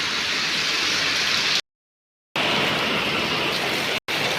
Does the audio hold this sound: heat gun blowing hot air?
no